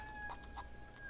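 Chicken clucking in the video game Barn Finders: two short clucks close together near the start, fairly faint over a steady low background hum, with no talk.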